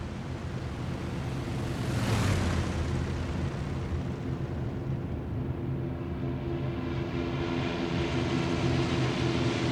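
Fighter aircraft engines roar in a steady, dense drone that never lets up, with one brief swelling rush early on as if a plane sweeps past close by. No voices are heard.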